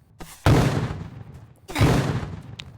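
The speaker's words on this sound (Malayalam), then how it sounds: "നമ്മളെ കൊന്നിട്ട് എവിടെ നിന്നൊക്കെയാ വെടി വരുന്നേ?" Gunfire in a Roblox game: two loud, sharp bursts of shots about a second and a half apart. Each burst cracks at the start and then trails off in a rattling decay.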